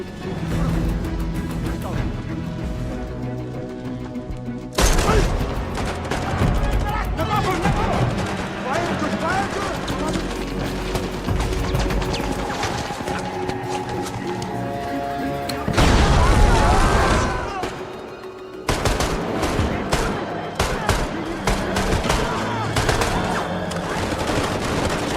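Heavy gunfire rattles through a jungle attack, with sustained bursts of automatic fire, loud booms and several abrupt louder blasts, continuous and dense for the whole stretch, with a voice talking over part of it.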